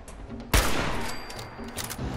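A single loud sniper rifle shot in Fallout 4 with a sharp crack followed by a long rolling echo tail, heard alone.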